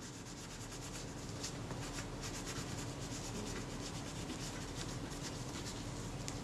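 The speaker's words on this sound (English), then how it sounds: "So the frame counter dial from the top of the camera, I'll clean that, clean underneath it." Dried grease being cleaned off the frame counter dial of a Kodak Retina I type 119 camera, a continuous faint close-up rubbing and scrubbing texture with no voices.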